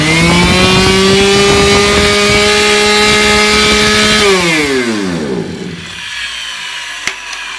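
A petrol grass trimmer that had trouble starting roars loudly at high, steady revs, then winds down as the engine dies away, leaving a quiet tail with a small knock.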